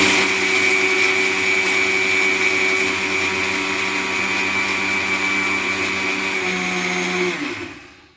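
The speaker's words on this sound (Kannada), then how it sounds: "ನಾನು ಮಿಕ್ಸಿಗೆ ಹಾಕ್ಕೊಂಬರ್ತೀನಿ ಇದನ್ನ" A mixer grinder runs at a steady, loud, even whine while blending rice flour dough for chakli until smooth, then winds down and stops near the end.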